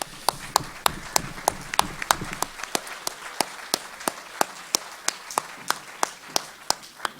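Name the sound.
round of applause for committee panel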